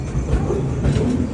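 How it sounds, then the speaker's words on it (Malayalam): Superfast Grand Trunk Express pulling into Bina Junction railway station, a loud, close, steady rumble of rolling wheels with faint rhythmic clacking, heard without any voices. "ബിന ജംഗ്ഷൻ റെയിൽവേ സ്റ്റേഷനിലേക്ക് ഇതാ നമ്മുടെ ട്രെയിൻ എത്തിക്കൊണ്ടിരിക്കുകയാണ്"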